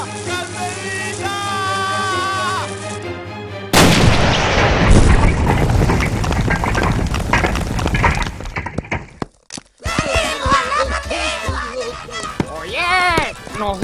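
Cartoon cannon fire in a battle on a coconut island: a loud burst of booming, cracking blasts and shattering debris follows music, then more chaotic noise, with shouting voices throughout.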